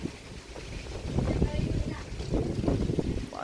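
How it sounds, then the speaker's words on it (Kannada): Strong, gusty wind rumbles outdoors and buffets the microphone in uneven surges, with a person talking faintly underneath. "ಸಿಕ್ಕಾಪಟ್ಟೆ ಗಾಳಿ ನೋಡ್ರಿ"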